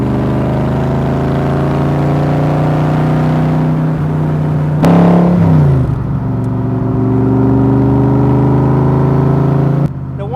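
Engine of a 1965 Backdraft 427 Cobra while driving on the road: a loud, steady deep rumble with a brief rev change partway, then settling back into a constant drone, close and alone with no talk.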